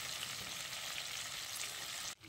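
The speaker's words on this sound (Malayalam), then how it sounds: "ഇനി അടുത്ത വശം കൂടെ നമുക്ക് ഒന്ന് ഫ്രൈ ചെയ്തെടുക്കാം" Beef steak fries in a pan seasoned with oregano powder and garlic, giving a close, steady, dense sizzle that holds evenly and then cuts off abruptly near the end.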